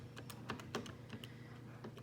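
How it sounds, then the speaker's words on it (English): A computer keyboard being typed on while entering a calculation, a quick irregular patter of soft close key clicks over a low steady hum, with no voices. "I'm going to type in negative 22 times 81"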